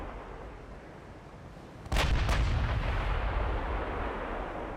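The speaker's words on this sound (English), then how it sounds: "Okay, the guns are firing." Battleship guns firing in the naval video game Ultimate Admiral Dreadnoughts, a sudden loud double boom followed by a sustained heavy rumble that slowly fades.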